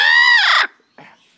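A parrot imitates a chicken with one loud, close, squawking cluck-like call lasting about half a second, followed by a couple of brief, soft sounds.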